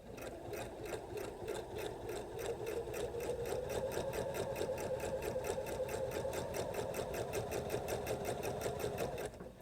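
A sewing machine runs steadily while stitching a French seam, its rapid, even needle rhythm continuous and close for nearly ten seconds before stopping.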